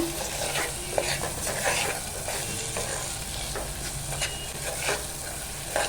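Malvani masala paste sautés in hot oil, its sizzle and frying crackle broken by repeated stirring scrapes at an irregular rhythm, close and fairly loud, with no talking.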